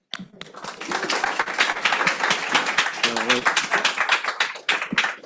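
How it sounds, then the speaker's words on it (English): Audience applause at a startup pitch night, dense clapping close by and sustained throughout, with voices and a brief tonal sound mixed in over it. "Please give a round of applause to Alex Taddy from Dentons"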